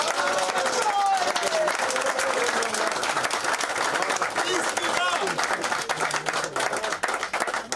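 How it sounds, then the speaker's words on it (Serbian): A hall assembly bursts into sustained, dense applause to approve a report at a commemorative gathering, with many hands clapping close and continuously throughout and a few faint voices mixed in. "Ja moram ovaj skup pitati da to potvrdimo aplauzom, ne moramo dizanjem ruku."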